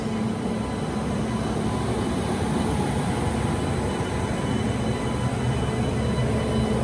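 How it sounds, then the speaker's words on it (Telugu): A goods train rolls into platform 2 at a station, producing a steady, unbroken rumble and rattle of wagons that stays loud and even throughout. "ప్లాట్ఫామ్ నెంబర్ 2కి ఇంకొక గూడ్స్ ట్రైన్ అయితే వచ్చింది."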